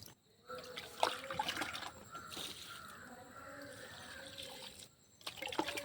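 Liquid poured slowly onto a tomato plant, a steady soft trickling and splashing that runs through most of the stretch, close by and moderately quiet, with brief pauses near the start and end.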